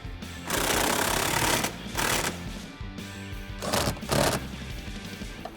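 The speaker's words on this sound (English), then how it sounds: "once these are started, we're gonna go ahead and tighten them down" A power tool drives factory hardware bolts on a 2018 Jeep Wrangler JL four-door rear seat recline kit, several loud rattling bursts of a second or so each, separated by short pauses, close by.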